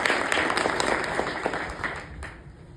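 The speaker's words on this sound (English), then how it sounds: "Give them all a round of applause." Outdoors at a memorial intersection dedication in Roopville, Georgia, a small crowd gives a round of applause, the claps fairly close and irregular before thinning out toward the end.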